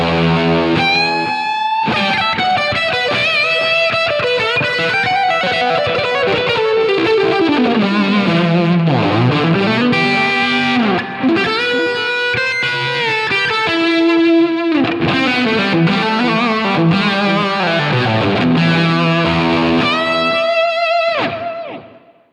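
An electric guitar plays a fluid lead line with distortion, chorus and a shelf EQ through a Line 6 modeler: sustained, singing bends and runs, loud and close, ending on a ringing note.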